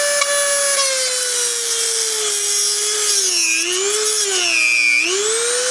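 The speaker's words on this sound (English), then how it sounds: "so we're bringing in the Dremel a little higher" Dremel rotary tool cutting through stuck screws during a Mercedes engine transplant, a loud, close, high-pitched whine that sags and recovers in pitch as the bit bites into the metal, running continuously without any voices.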